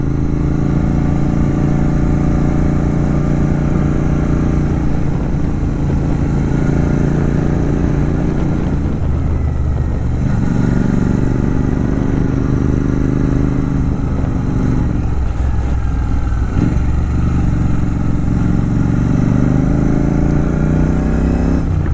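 Royal Enfield Interceptor 650 motorcycle engine drones steadily throughout at cruising speed, with a few shifts in pitch as it accelerates and eases off, loud and close with wind rush.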